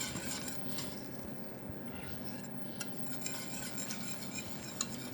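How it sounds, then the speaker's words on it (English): A utensil stirs and scrapes a melting chocolate mixture in a pot, with soft clinks and continuous scraping, close up and steady, no voices. "We're going to mix all that, the chocolate is going to melt."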